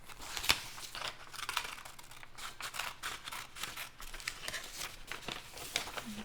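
Scissors snip through paper to cut out printed vocabulary cards, giving quiet irregular crisp cuts and rustles close by.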